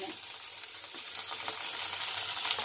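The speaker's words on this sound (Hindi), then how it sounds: "अब आलू को 2-3 मिनट फ्राई करूंगी" Small potato pieces fry with onions in a pan for aloo tamatar poha, making a continuous close sizzle with faint stirring scrapes and light crackles, growing slightly louder over the few seconds.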